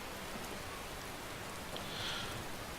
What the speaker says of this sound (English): the rain's a little bit hard